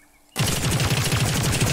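A Scrapper, a revolver-like gun in The Cycle video game, fires in a loud, sustained burst of rapid repeated shots with a pulsing low thump, starting abruptly after a brief near-silence.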